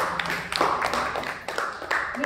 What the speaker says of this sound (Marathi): त्यांच्यासाठी जोरदार टाळ्या होऊन जाऊ दे